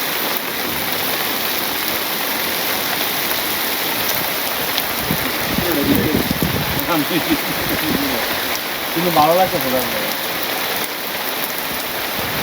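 Steady rain pours down over a Bangladeshi village, a constant broadband hiss of drops on surfaces, with a person speaking briefly partway through.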